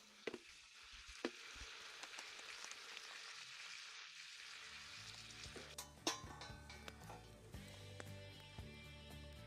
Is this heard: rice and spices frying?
yes